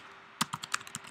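Rapid keystrokes on a computer keyboard while entering a command-line instruction, about eight crisp close clicks in an uneven quick run after a brief pause.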